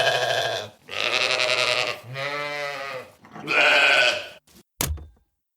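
Sheep bleating in several long, loud, wavering calls one after another, followed by a short knock and then silence.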